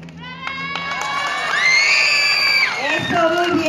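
A crowd cheers and whoops loudly for a candidate for queen of the Divina Providencia festivities, with shouting voices building into a sustained roar and a host's voice heard briefly over the noise.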